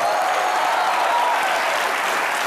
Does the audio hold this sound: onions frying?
no